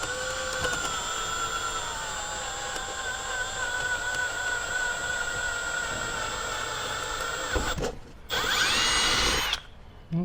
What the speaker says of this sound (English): I saved my best drill bit for this job.